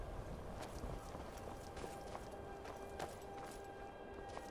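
Horse hooves clip-clop steadily in the video game Skyrim, an even run of soft, close thuds that carry on without pause over a low, constant ambient bed.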